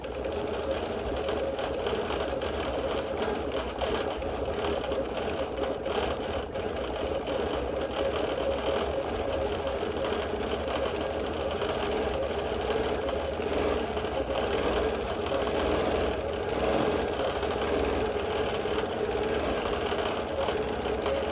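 Quilting machine stitching an alma mater quilt, a steady mechanical whir with a faint rhythmic hum running continuously throughout, moderately loud and alone with no voices.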